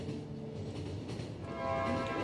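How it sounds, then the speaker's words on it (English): A train in the post-apocalyptic game The Final Station runs along steadily with a low rumbling drone and a faint mechanical hum that grows slightly louder toward the end. "Just keep this train operating."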